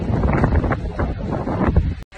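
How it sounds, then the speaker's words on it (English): Breezy wind at Kewarra Beach gusts steadily against the microphone, a rough low rumble with soft rustling that cuts off abruptly at the end. "Oh, it's a little bit breezy."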